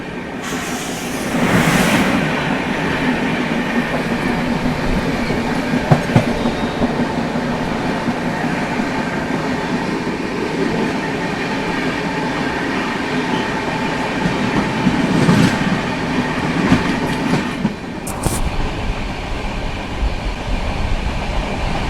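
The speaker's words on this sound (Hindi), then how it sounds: "अब डायरेक्ट आपको दिखाता हूँ अगस्त क्रांति तेजस राजधानी की क्रॉसिंग" The August Kranti Tejas Rajdhani express rushes past at a crossing with another train, a loud continuous rumble and rhythmic wheel clatter sustained for over twenty seconds, with brief sharp bursts as carriages pass.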